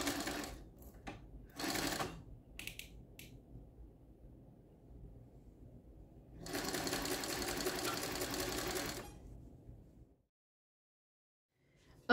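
A sewing machine stitches strips of vinyl fabric in short bursts, then one longer steady run, whirring close by with quiet gaps between passes and silence at the end.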